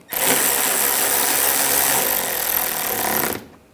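A power tool tightens bolts while fog light bezels are replaced on a 2013-2016 Dodge Dart, running as one loud, steady, continuous whir for over three seconds before stopping abruptly, with no talking.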